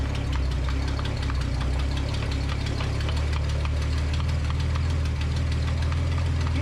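A Datsun 280Z engine idles steadily after an ignition timing adjustment, with a continuous loud rumble and a fast, even knocking pulse running throughout.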